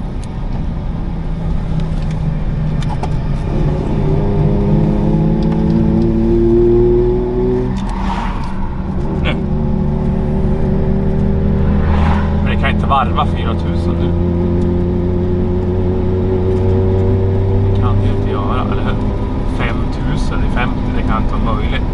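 A Saab two-stroke engine revs continuously, its buzzy, layered note rising and holding at higher revs with a few sharp bursts along the way, close and steady throughout.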